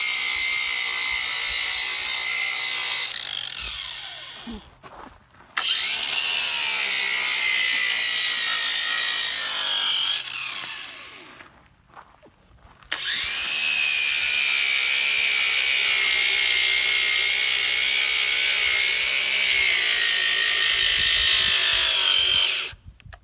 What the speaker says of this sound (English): I'm going to let him sand so y'all can see.